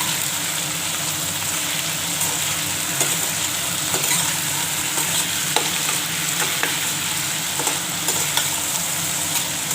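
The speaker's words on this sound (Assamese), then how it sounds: "এটা অকমান সময় মই ভাজিম" Vegetables with salt and turmeric frying and being stirred in oil in a pan, a steady close sizzle with scattered clicks of the spatula against the pan, no talking.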